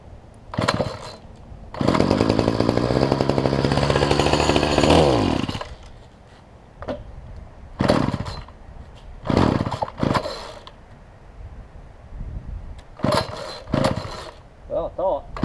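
A Bolens BL250 weedeater two-stroke engine fitted with a HIPA carburetor kit, pulled and revved in a loud burst, then sputtering in short uneven bursts of running between pauses, with speech in between.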